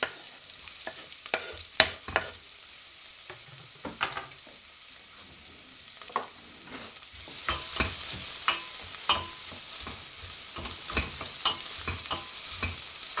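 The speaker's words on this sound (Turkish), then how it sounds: "Doğradığım soğanları içerisine atıyorum." Chopped onions sizzle and crackle steadily in hot oil, with intermittent scraping and stirring clatter, growing into a fuller hiss.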